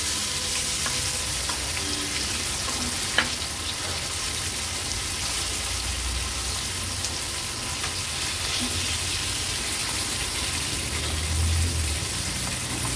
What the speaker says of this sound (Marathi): आपण ह्या वाकट्या तळत ठेवल्या होत्या